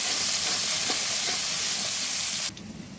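Chopped onion and crushed garlic hit hot oil with a loud, steady hiss that holds evenly, then drops off abruptly near the end, leaving a quieter background.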